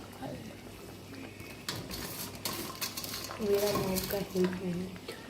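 Pakoras stirred and fried in a pan: a faint bubbling fry under repeated scrapes and clinks of a utensil against the pan, growing busier and louder toward the end, with some talking in the background.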